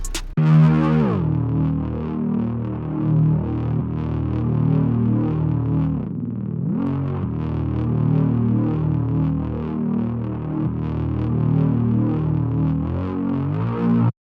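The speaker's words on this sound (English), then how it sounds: "I added in higher octaves and slides just to give it some more movement to it, right? And it sounds like this." A bass line built from a drum kit's bass sound, with higher octave notes and pitch slides added, plays continuously at a steady loud level, gliding between notes with a throbbing, distorted tone.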